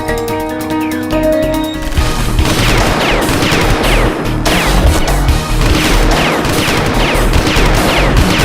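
Gunfire rattles in a dense, loud, rapid stream of shots that runs nonstop for several seconds over a heavy booming backdrop, with a tonal sound fading out at the start.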